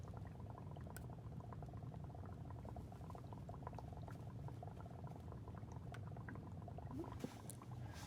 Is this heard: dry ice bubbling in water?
yes